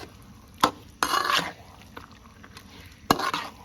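Shrimp stirred with chili paste in a pan over medium heat, a few scraping utensil strokes against the pan, with soft sizzling in between, close and fairly quiet, no talking.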